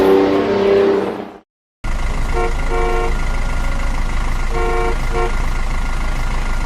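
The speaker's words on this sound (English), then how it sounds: "Car." A passenger car drives past steadily, with a few short, clear horn toots sounding partway through over the continuous road and engine noise, after a brief silent gap.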